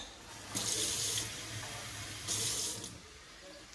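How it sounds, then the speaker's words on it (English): Tap water runs steadily into a pot, a hissing splash that swells in two louder bursts as the flow shifts, fairly close, with no voices. "then you add water,"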